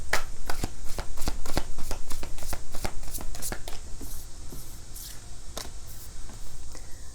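Tarot cards being shuffled by hand, a fast run of crisp riffling flicks and slaps that repeat in bursts and then thin out toward the end, close up with no talking.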